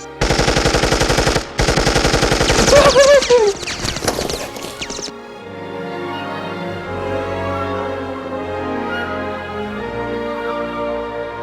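Helix fires a gun at enemies in Dragon Quest Heroes II: a dense, loud rapid-fire burst runs for about five seconds with one brief gap, then gives way to a quieter sustained game backdrop.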